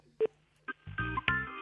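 Telephone keypad tones beep in a quick sequence as someone dials Rodez town hall, followed by a ringing line with sustained tones, all clear and close with no talking.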